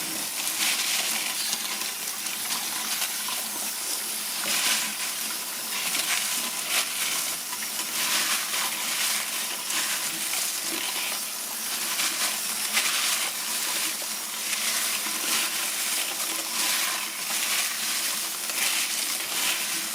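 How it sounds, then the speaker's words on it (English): Running water rinses polished Oregon fire opals, a steady bright hiss of flowing water with light scattered clicks and patters throughout, close and continuous. "Now let's do a quick rinse and a quick check to see what we have."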